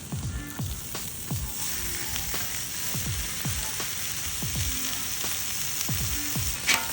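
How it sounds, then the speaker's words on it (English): Bulgogi steak and provolone cheese sizzle on a Blackstone griddle, giving a steady close hiss broken by a regular series of soft scraping strokes roughly every second. "we'll flip this so the cheese touches the grill to get it nice and melted"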